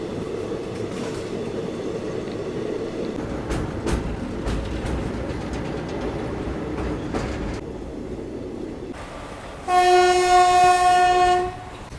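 The 22190 Intercity Express rolls into Katni Junction in Madhya Pradesh with a continuous rumble and wheel clatter, then sounds one loud, sustained horn blast near the end.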